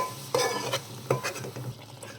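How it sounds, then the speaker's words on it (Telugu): Tomato paste frying in a pan for a plantain and spring onion curry makes a soft sizzle, broken by a few sharp utensil scrapes and taps against the pan, close and quiet. "టమాటా వేసేసుకుందాం పేస్ట్ బాగా ఫ్రై చేసుకోవాలండి టమాటా పచ్చివాసన పోయే వరకు"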